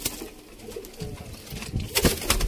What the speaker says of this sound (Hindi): तो दोस्तों यह कबूतर है चलता फिरदा,